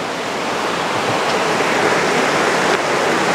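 A rushing stream swollen after a night of heavy rain, near a village stream crossing, roars as a loud, constant wash of water with no pauses and no voices.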